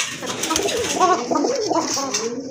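Pigeons offered for sale coo close by in a series of soft, repeated throaty calls, steady and fairly loud against a faint background.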